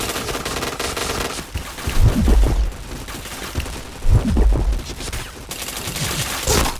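Gunfire in the first-person shooter Point Blank, rapid bursts of automatic shots with two heavier volleys, over a constant game background hum, no talk.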